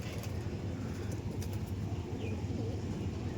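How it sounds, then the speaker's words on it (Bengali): Pet pigeons in a loft, both hens and cocks, give low, soft, repeated cooing, partly buried in a steady background hum with faint traffic. "এটা হচ্ছে মাদি ফিমেল পায়রা, মাদি পায়রা"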